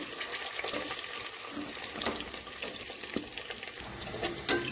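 Onions fry in a pan for mutton biryani, giving a steady close sizzle with occasional stirring clicks and scrapes, no one speaking.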